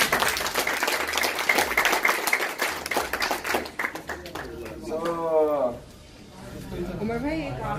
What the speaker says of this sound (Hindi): तो तालियां हो जाए गाइस